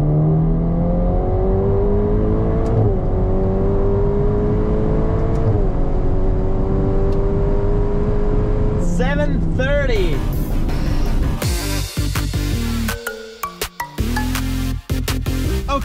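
A Ferrari Portofino and a tuned Alfa Romeo Giulia accelerate hard from 100 to 200 km/h, engine note climbing loudly through gear shifts before ending in a burst of abrupt, choppy noise.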